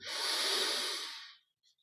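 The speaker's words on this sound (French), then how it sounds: "On prend maintenant une grande inspiration par les narines" A single deep breath drawn in through the nostrils during guided meditation, close and loud, lasting over a second before fading to near silence.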